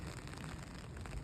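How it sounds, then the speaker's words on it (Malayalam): Heavy rain falls steadily in a UK city street, a soft continuous hiss heard faintly and at a distance with no voices. "നല്ല മഴ പെയ്യുന്നുണ്ട്."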